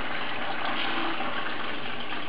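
A water siphon tube sucks water and gravel upward, giving a continuous gurgling, hissing flow at moderate loudness with no breaks and no voices.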